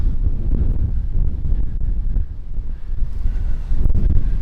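Strong wind buffets an external microphone outdoors by old farmhouses in a steady, low rumbling roar with gusty swells, loud and close, with no voices.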